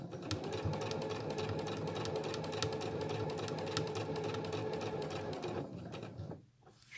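A sewing machine stitches fabric wipes in a steady, fast rhythmic whir, close and continuous for about six seconds before pausing briefly.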